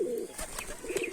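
Rajshahi Giribaj pigeons coo in a short, close burst of low, rolling throaty calls.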